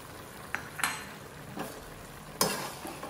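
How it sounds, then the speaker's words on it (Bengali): Vegetables and lentils with coriander leaves stirred in a pan for a hospital-style mixed vegetable labra, soft sizzling with a few distinct scraping stirs, fairly quiet and close, no speech. "এখন একটু নেড়ে দিচ্ছি।"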